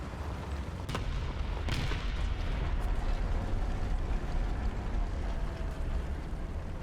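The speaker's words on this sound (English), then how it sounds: "Our sector is under artillery barrage." An artillery barrage in the War Thunder tank game, heard from inside a British tank. Heavy, continuous low rumble of distant explosions is broken by a few sharper blasts near the start, dense and unbroken throughout.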